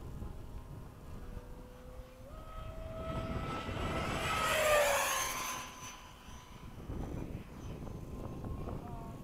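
An Eflite F-16 RC model jet with a rebalanced ducted fan makes a downwind pass, its whine swelling to a loud peak as it sweeps by, dropping in pitch and fading away, with faint voices and wind noise.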